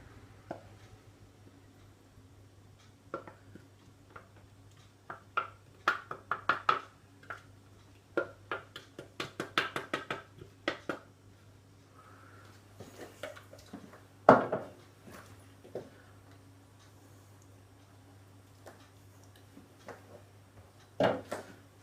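A wooden spoon scraping and tapping inside a plastic food processor bowl after the lid and blade are removed: scattered close knocks and scrapes in uneven bursts over a low steady hum, with no talk.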